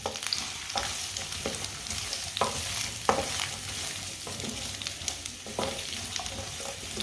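Chopped carrots fry over medium heat in a pan while a spoon stirs them steadily, giving a continuous close sizzle broken by scraping stir strokes and light clinks.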